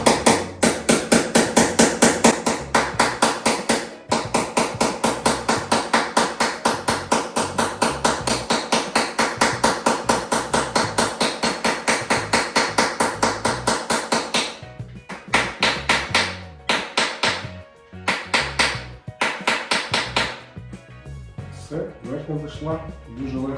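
Rapid, loud metallic hammer blows ring out in a steady fast rhythm for a long stretch, then break into scattered, heavier strikes with short pauses, as a bearing race is driven into the steering head of a Honda CRF 250L Rally motorcycle.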